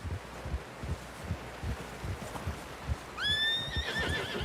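A horse neighs loudly near the end of a scene in the video game Red Dead Redemption 2, a rising then falling whinny over steady hoof clops and rustling background noise.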